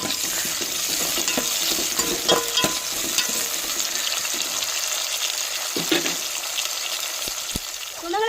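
Tomatoes fry and sizzle in a pan for a fish soup, with repeated scraping stirs against the pan over a steady hiss and water-like noise nearby.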